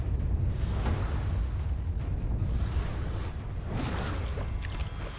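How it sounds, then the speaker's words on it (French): Cannon fire booms in the game Alice: Madness Returns, a deep rumbling blast followed by another sharp burst near the end, loud and without voices. "Faut gaffe au canon, il est en train de tirer."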